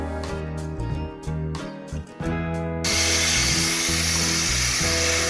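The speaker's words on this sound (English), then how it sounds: "take the frame outside and get to sandblasting" A small sandblasting unit loaded with multi-purpose sand blasts a go-kart frame outdoors, starting with a sputtering motor hum and short bursts, then settling into a loud, continuous hiss of spray.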